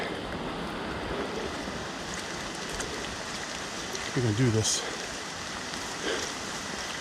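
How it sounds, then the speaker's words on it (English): Steady rain hisses all around in a dense, even wash of sound during a cold night hike, with a brief spoken phrase partway through. "It's like hiking in a river while it's still raining."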